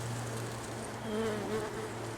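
Honeybees buzz around hive frames holding capped larvae, young larvae and eggs while being moved into a 10-frame box, a steady close-up hum with a few louder passes, no voices.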